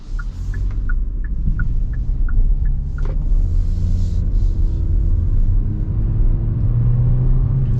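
A 2025 Hyundai Venue engine revs up toward nearly 4,000 RPM, a steady loud rumble and rising drone heard from inside the car, with faint ticking early on and no talk.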